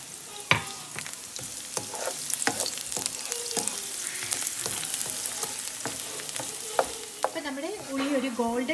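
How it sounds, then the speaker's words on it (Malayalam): Onions fry in hot coconut oil in a pan for Thrissur-style kalathappam, giving a loud steady sizzle broken by repeated sharp clicks and scrapes of stirring, with no voices. "എണ്ണയൊന്ന് ചൂടായി കഴിയുമ്പോൾ ഉള്ളി ഒന്ന് ഇട്ട് കൊടുക്കാം"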